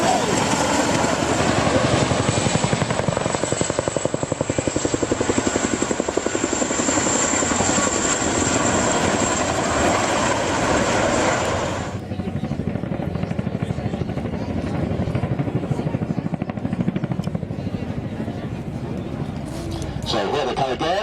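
Several model helicopters fly together in formation at a model show, their rotors and engines a loud, steady whine that drops away partway through, with a commentator speaking over them.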